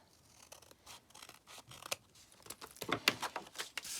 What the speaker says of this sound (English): I just want to cut that white edge off.